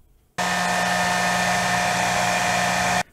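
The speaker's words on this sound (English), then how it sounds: "we're gonna dry that with our blow dryer." A hair dryer blows on a paper origami two-headed dragon, switching on with a loud steady whine and constant airflow hum that runs unbroken for nearly three seconds before cutting off.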